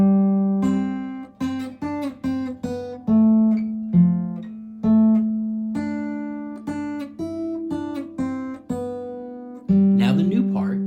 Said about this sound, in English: That's the first part of We Wish You a Merry Christmas